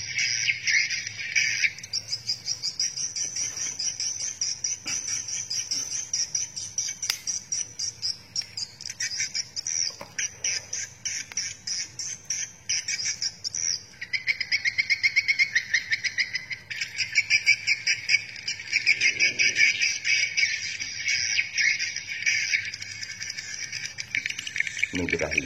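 A recorded swiftlet mating call plays as a continuous high, chirping twitter, pulsing and trilling steadily and fairly close throughout.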